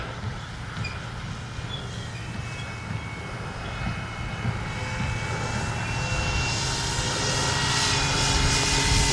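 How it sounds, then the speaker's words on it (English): A small FlexRV-8 60E G2 radio-controlled model airplane's electric power system drones steadily with a whining propeller, growing gradually louder and brighter as it flies closer. "Easy flying plane."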